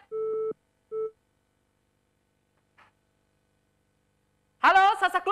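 A telephone busy tone after a dropped call: two short beeps with a pause between them, then quiet, before a voice comes in at the end.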